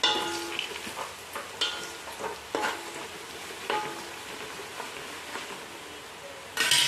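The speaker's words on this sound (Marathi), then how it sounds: "छानपैकी असे हलवून घ्यायचे ते सगळं गॅस बारीक करायचा आणि मग हळद टाकायची" Chivda spices frying in a pan as turmeric is stirred in, a soft continuous sizzle broken by intermittent spoon scrapes and taps on the metal, close and fairly quiet.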